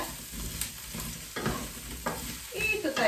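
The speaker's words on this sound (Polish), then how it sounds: "wszystko wsypiemy i niech nam się pięknie smaży" Oil sizzles steadily in a pot while a utensil scrapes and stirs through frying Brussels sprouts and garlic in repeated strokes, close by.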